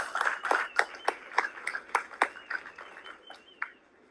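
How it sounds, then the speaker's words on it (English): Audience clapping in thanks to police forces at a talk on investing in Jamaica at the IslandSPACE Caribbean Museum, a modest round of scattered, sharp claps fading out over a few seconds. "Guys, that's a thank you"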